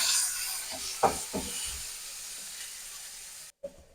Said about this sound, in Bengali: দিয়ে লাল করে ভেজে নেবো করলাটাকে